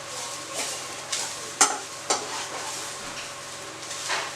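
Old grated coconut frying in a pan for a gojju, a steady soft sizzle broken by several sharp scraping stirs of a spatula against the pan.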